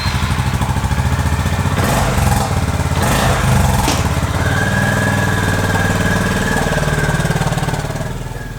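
A Honda GB350S's 350 cc long-stroke air-cooled single-cylinder engine thumps steadily and loudly up close, a rhythmic pulsing note with a few revs in the middle before fading slightly at the end.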